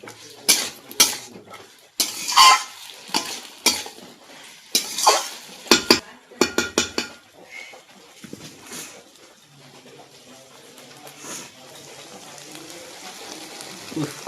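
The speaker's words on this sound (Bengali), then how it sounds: "এবার আমি মটর আলুটা দিয়ে ভালো করে আমার কষিয়ে নেবো" Peas and potatoes are stirred and sautéed in spiced masala for ghugni, with scraping spoon strokes and pan clatter in rapid bursts early on, then a softer steady sizzle. No one speaks.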